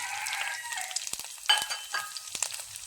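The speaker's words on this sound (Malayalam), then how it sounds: "ഇനി നമുക്കിതിലേക്ക് 2 പച്ചമുളക് അരിഞ്ഞതും കുറച്ച് കറിവേപ്പിലയും ഇടാം." Chopped green chillies and curry leaves hitting hot oil with garlic in a pan, giving a bright, close sizzle with spoon clicks and a crackling burst partway through.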